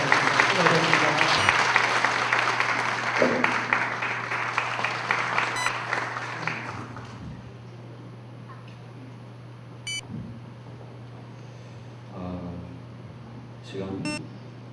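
An audience at a church general assembly's opening worship service applauds for a plaque presentation. The clapping is loud and dense at first, then tapers off into quiet room tone broken by a few faint beeps.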